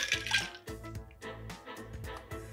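A cocktail is poured over ice in a glass, giving a short run of splashing, trickling liquid and clinking ice, heard close and fairly quiet, with no talking.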